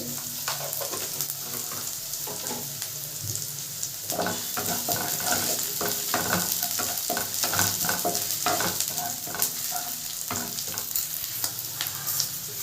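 Black cumin seeds sizzle and crackle in hot oil in a pan for spinach bharta, a steady close frying hiss with scattered pops and light stirring throughout.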